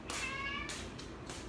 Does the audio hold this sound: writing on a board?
no